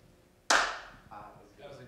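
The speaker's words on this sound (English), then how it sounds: "This will be the real official clap, folks." A group of people at a worship gathering clap once in unison: one sharp, loud burst that decays over about half a second, followed by faint room noise and a few soft scattered sounds.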